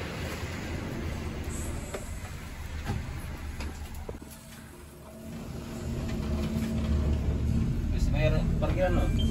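A bus pulls away and drives on, its engine rumble dipping briefly and then swelling into a steady, louder road drone, with voices talking inside.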